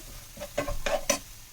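Masala powder frying and being stirred in a pan for soya meal maker rice, with four quiet bursts of sizzle and scraping spoon strokes close by, no voices.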